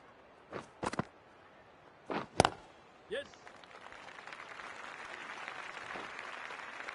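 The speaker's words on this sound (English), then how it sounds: "Please give him a round of applause." At a West Indies versus Bangladesh T20 cricket match, a few sharp isolated claps and thumps come first. Then a broad, distant crowd applause swells and holds steadily.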